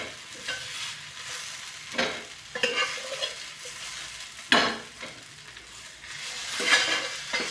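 Walachya shenga beans fry in a pan while a spoon stirs them, giving a steady close sizzle broken by sharp scraping and clinking strokes against the pan every second or so.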